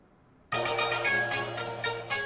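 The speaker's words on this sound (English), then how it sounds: "I think someone's phone is ringing" A phone ringtone starts abruptly and rings on loudly and steadily, with a bright electronic tone that carries through to the end.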